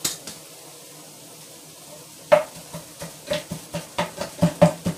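A meat masher chops meat in a pot for soup, giving a series of rhythmic knocks and scrapes that grow louder and more regular after a quiet start, with no talking.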